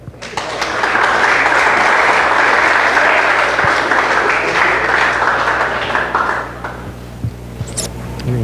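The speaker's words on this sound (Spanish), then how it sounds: "Damos un aplauso, por favor." Congregation applause in a church service honoring a tournament champion: clapping swells in quickly, holds loud and dense for several seconds, then tapers off near the end with some faint background tones.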